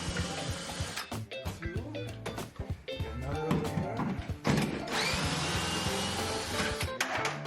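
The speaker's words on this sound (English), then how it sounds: "Now I have to get my screw gun and get this vanity out of here" A screw gun whirs in bursts while backing screws out of a bathroom vanity fixed to the wall, close and fairly loud, with clattering and rattling between runs.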